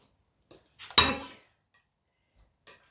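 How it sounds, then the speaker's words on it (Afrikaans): Bowls and dishes handled in a home kitchen while making pap: one brief clatter of crockery with a few soft knocks before and after, otherwise quiet. "Kom ons kry 'n ander bak."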